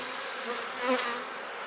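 Honeybees at an open hive during a queen search make a close, continuous buzz that swells briefly in the middle before settling again.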